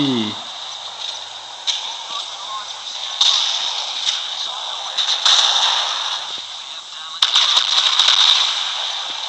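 Heavy naval gunfire in the game Modern Warships: several sharp, booming cannon volleys over a steady background roar, spaced a second or two apart.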